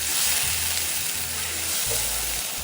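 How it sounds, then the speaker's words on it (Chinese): Black pepper sauce boiling and reducing in a pan on high heat, giving a steady, close bubbling sizzle that holds throughout with no voices. "再将炉火调高，将黑胡椒酱煮开，收干水分，一直煮至黑胡椒酱更浓缩一点。"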